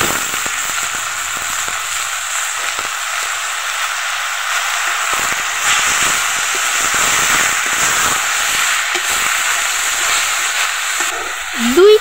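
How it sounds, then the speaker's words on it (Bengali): Boiled moringa leaves hit a pan of fried onions and fry with a loud, continuous hissing sizzle, close and steady throughout, with a faint scrape near the end. "এগুলোর মধ্যে এখন সিদ্ধ করা সজনের শাকগুলো আমরা দিয়ে দিব।"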